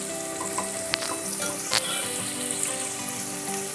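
Cut beans tipped into vegetables already frying in oil for a restaurant-style veg biryani, with a dense continuous sizzle and crackle close up, a few soft stirring knocks through it, no voices.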